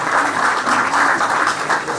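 An audience at a Pakistan Minority Alliances gathering breaks into loud, steady applause, dense clapping that carries on without pause for the whole stretch, with no voices over it.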